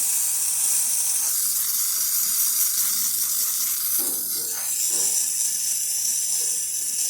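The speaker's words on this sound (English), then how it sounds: "So let's test the steam." A Lelit Bianca espresso machine steam wand hisses loudly and steadily throughout, a bright continuous rush with brief gurgling changes near the middle.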